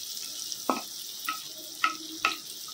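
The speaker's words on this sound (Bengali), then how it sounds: "নাহলে একসাথে চালের সাথে ভাজতে গেলে না অনেকটা গলে যাবে কিশমিশটা আর কাজুটা, ওই জন্য একটু ভেজে নিচ্ছি এটাকে সাইড করে নিয়ে" Cashews and raisins fry in a pan with a soft continuous sizzle. A spoon scrapes and stirs them in four or five distinct clinks and scuffs, close by and with no talking.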